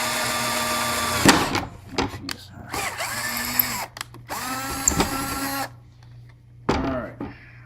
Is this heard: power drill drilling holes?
yes